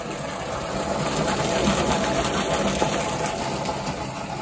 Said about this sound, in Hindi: और ये भी बस ट्यूबवेल आन है।